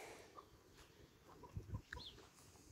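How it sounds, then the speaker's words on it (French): Hens in a coop built from wooden pallets, making a few soft, scattered clucks and murmurs, faint and slightly distant against quiet outdoor background noise. "Et il y aura la poule noire qui est en train de couver."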